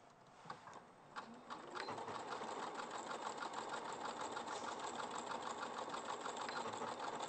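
Sewing machine running steadily, zigzag stitching through a bag for added strength, a fast even mechanical chatter at close range after a few short starts, fairly quiet overall.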